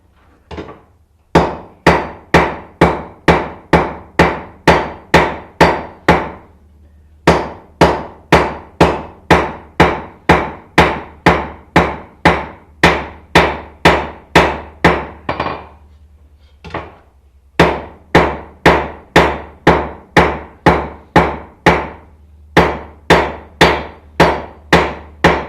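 A tire iron is hammered into a knife at the forge, its tapered square worked into edges: loud, close metallic hammer blows in quick, steady runs of strikes, broken by three short pauses.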